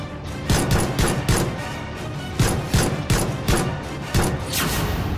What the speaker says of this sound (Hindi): बदमाश हरकत में आए और ताबड़तोड़ गोलियां बरसा दी